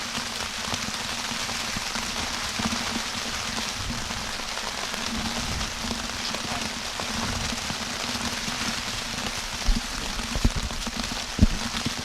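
Steady rain pours down at an outdoor high school track and field meet, a dense continuous patter with a low hum underneath and a couple of brief knocks near the end, with no voices.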